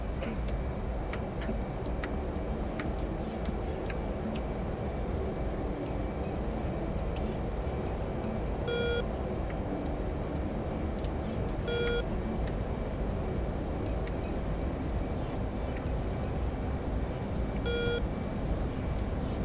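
A heavily loaded aircraft's engine runs at full power for takeoff in a video game, a constant dense roar with a few faint periodic beeps sounding over it, steady and unbroken for the whole stretch.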